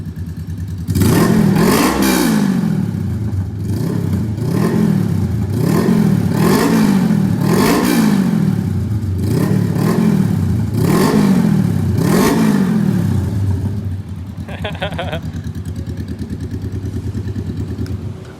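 A Honda Rebel 500 motorcycle exhaust revs up repeatedly in a steady rhythm, about eight loud, close blips with a rumbling idle between them, settling into idle near the end.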